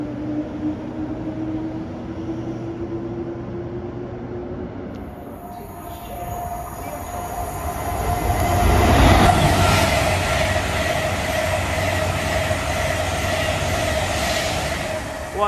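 A Class 230 train, unit 230-005, pulls out of Bletchley station bound for Bedford, its engine and wheel noise swelling to a steady rumble midway and holding with a squealing high tone, heard from the platform without talk.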